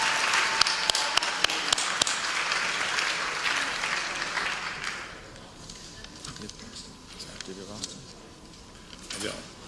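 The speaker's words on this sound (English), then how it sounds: "So let's give a round of applause for Coach Augustine." Applause for a coach at a fall athletic banquet, a full burst of clapping that swells for about five seconds and then fades into scattered claps and room noise, with talking beneath.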